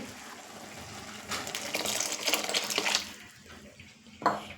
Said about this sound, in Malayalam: നമുക്കിനി ആ തേങ്ങാപ്പാലും കൂടെ ഒന്ന് അങ്ങോട്ട് ഒഴിക്കാവേ